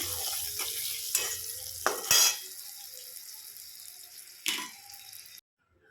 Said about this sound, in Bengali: একসাথে ফুলকপি আলু আমি এভাবেই ভাজি